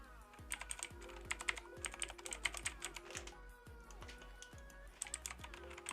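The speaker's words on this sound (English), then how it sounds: "So as you can hear, it is a blue switch, so it's a bit loud" Fast, clicky typing on an Ajazz AK33 mechanical keyboard with blue switches, sharp, loud keystrokes in an uneven rapid rhythm, recorded close up.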